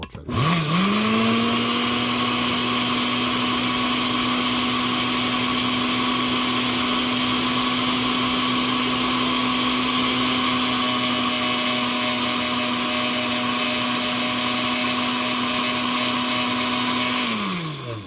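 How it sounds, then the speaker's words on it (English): A countertop blender grinds leaves into fertilizer, spinning up with a rising whine and then holding a loud, steady motor drone before winding down at the end. "Grind up all those leaves real well, and start going."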